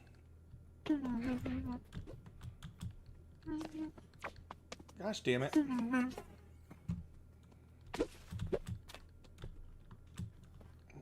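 Computer keyboard keys clatter in quick bursts while someone plays Psychonauts 2, the typing close and fairly loud, mixed with frequent talking and an exclamation.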